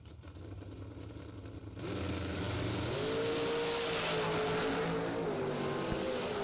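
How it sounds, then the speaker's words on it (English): A drag racing dragster from Crater Performance Engine starts quietly under a low idle, then its engine surges after about two seconds into a sustained, rising roar that holds loud to the end. "Broom in the Crater Performance Engine Dragster"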